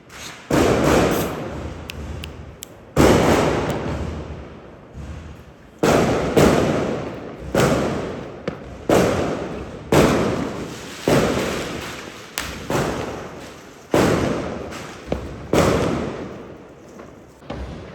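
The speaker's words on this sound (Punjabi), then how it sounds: "ਬਾਕੀ ਪਟਾਕੇ ਟੁੱਕੇ ਚਲਾਈ ਜਾਂਦੇ ਸ਼ੋਰ ਸ਼ਰਾਬਾ ਪੂਰਾ" Repeated loud Diwali firecracker bursts in Rishikesh, Uttarakhand, roughly every two seconds, each sharp bang trailing into crackling and echo, going on and on with no talking.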